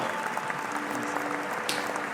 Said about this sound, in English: I'll give you a round of applause for Wake the farm up.